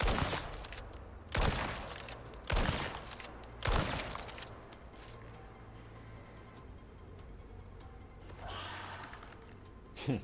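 Gunfire in a video game as a player shoots at a scorpion: four sharp, loud shots at roughly one-second intervals, followed by quieter rustling and breathy noises.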